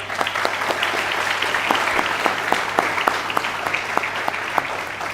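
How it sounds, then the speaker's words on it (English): An audience at an ACM talk applauds steadily and loudly, dense clapping with no voices, sustained for several seconds. "Let's give a thunderous round of applause"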